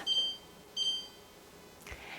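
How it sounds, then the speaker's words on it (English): A kitchen timer gives two short, faint electronic beeps about a second apart while a pot roast in a Dutch oven is being cooked, followed by a soft click. "Now we'll set a timer here for"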